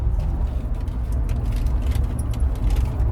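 A car drives along a road at night, its engine and tyre noise forming a steady, close low rumble with no talking.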